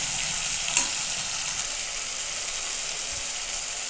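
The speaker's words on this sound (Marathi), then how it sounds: "टमाटे छान शिजत आहे" Tomatoes with salt and turmeric fry in a pan with a soft, steady sizzle close by, broken by one brief clink or stir early on.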